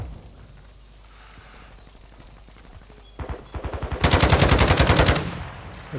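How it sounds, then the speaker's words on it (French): Bursts of automatic gunfire in a shooter video game, starting around the midpoint and building into a loud, rapid sustained volley before cutting off, with quieter game ambience beforehand. "elle vient de tirer sur un bug"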